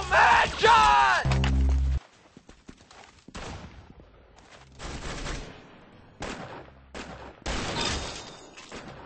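Gunfire in Roblox Arsenal, with scattered game shots and effects that follow a loud opening burst of game sound and excited speech, all at moderate loudness.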